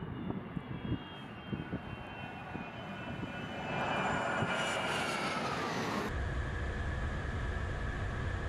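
Jet engines of a Tupolev Tu-22M3 Backfire supersonic bomber roar, with distant rumbling and clatter swelling into a loud, broad continuous roar that holds steady to the end.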